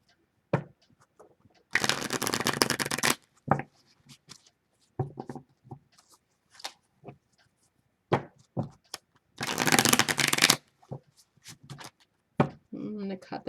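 A deck of tarot cards shuffled in two loud, close riffling bursts of about a second each, separated by scattered taps and card handling, with a person talking in between.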